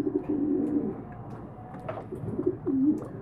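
Pigeons coo in a loft where the birds are kept and breed, giving low, repeated throaty coos in a steady series that rises again near the end. The calls are close and clear, with no talk over them.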